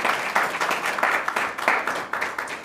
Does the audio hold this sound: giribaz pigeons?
no